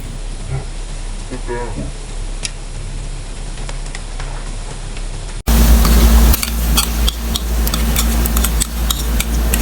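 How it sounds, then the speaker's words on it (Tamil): Onions fry and sizzle in a pan while being stirred for a biryani, with scraping and clinking of the utensil; the cooking noise grows suddenly louder and denser partway through and continues steadily to the end. "இந்த ப்ரௌன் கலர் மாறுற வரைக்கும் நம்ம கிளறி விட்டுக்கிட்டே இருக்கணும்"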